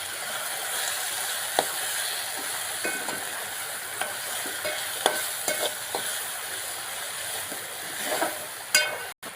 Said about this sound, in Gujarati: હાલો મિત્રો આને હલાવી નાખીએ.